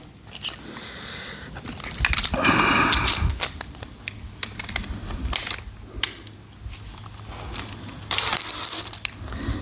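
A DeWalt tin snip attachment is tightened onto a drill, giving quiet ratcheting clicks and metallic mechanical ticks in scattered bursts, with a busier clattering stretch early on.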